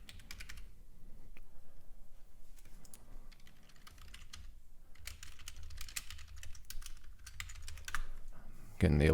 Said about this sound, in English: So yes, you did hear me typing.